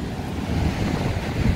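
Ocean waves surge into a small, steep coastal bay, a dense, continuous roar of surf mixed with gusty wind buffeting the microphone.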